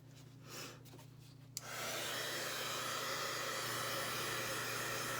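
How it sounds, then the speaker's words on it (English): An embossing heat dryer for crafts switches on with a click partway through and then runs with a steady, loud, close whirring blow that continues to the end, no talk over it. "This is just an embossing dryer."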